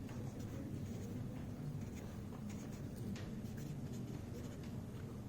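A marker or chalk scratches continuously across a classroom board for a probability table, a faint steady scraping over low room hum.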